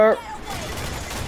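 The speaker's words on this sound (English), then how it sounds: "All of these, fire. More cannonballs." Ship cannons fire in the naval combat of Assassin's Creed IV Black Flag, a sharp close boom opening the moment and then decaying into a rumbling wash, with game voices and noise underneath.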